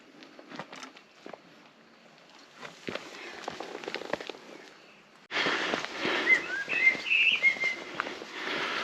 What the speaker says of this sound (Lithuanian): Paukščiukai čiulba.